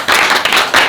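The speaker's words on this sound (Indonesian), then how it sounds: "Tepuk tangan." Group of people clapping hands in brief applause at a gathering with a governor and vice governor, a short burst of close, rapid, fairly loud claps.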